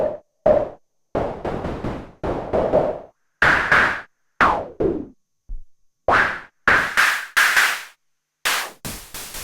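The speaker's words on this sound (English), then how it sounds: "The first noise type is digital noise running through an Oberheim SEM style filter" Short percussive bursts of digital noise through an Oberheim SEM style filter on a Mutable Instruments Braids modular synth sound one after another in an uneven rhythm, each with a resonant, knocking tone that shifts in pitch.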